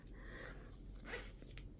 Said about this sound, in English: open up your zipper